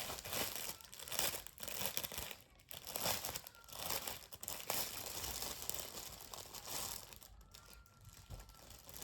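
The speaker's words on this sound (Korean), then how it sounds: "아, 이거 비닐 소리 엄청 들어갈 것 같은데." Crinkling plastic wrapping around lace yarn being opened up close, a steady rustle with louder crackling bursts that swell and fade across the whole stretch, with no voice.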